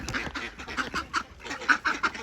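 Ducks at Dal Lake quack repeatedly in a noisy, overlapping chorus, with harsh nasal calls coming in quick succession close by.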